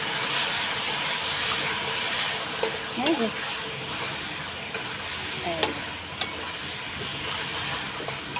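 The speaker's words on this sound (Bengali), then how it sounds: "ততক্ষণ এটা একটু নেড়ে চেড়ে দিই" Vegetables fry in a pan with a steady sizzle while being stirred, a couple of brief scraping clinks standing out; a voice talks over the cooking.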